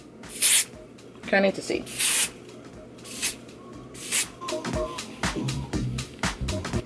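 Short, sharp bursts of hair spray from a can misted onto the lace hairline of a straight frontal wig, about half a dozen quick spritzes close up, mixed with combing and rubbing sounds and a few brief spoken words.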